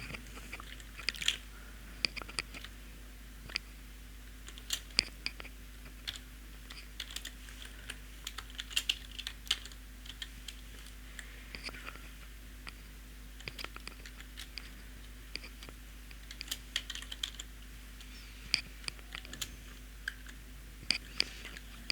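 Computer keyboard typing while entering text into a Microsoft Access form: a steady run of light, rapid key clicks in irregular bursts, close and fairly quiet, with no talking over a constant low electrical hum.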